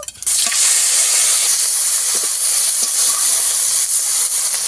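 Panch phoron five-spice and a little fish oil hit hot cooking oil for a spicy bogo fish curry, giving a loud, continuous crackling sizzle that bursts in abruptly and holds steady throughout.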